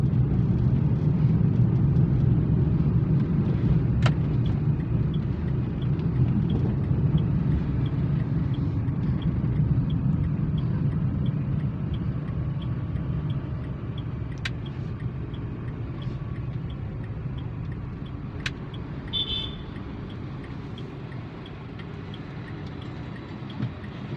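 A car heard from inside the cabin on the road: a steady low engine and road rumble that gradually eases and quiets toward the end as the car slows to pull over, with a few faint clicks.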